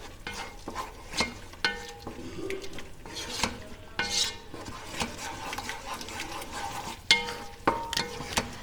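Pasta sauce being stirred in a pan with mayonnaise mixed in, giving repeated scraping and knocking strokes of a spoon against the pan with soft sizzling underneath, fairly close and with no voices.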